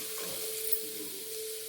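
Half an onion frying in oil for a Mangalore fish curry, a steady faint sizzle and hiss with a low hum, no talking.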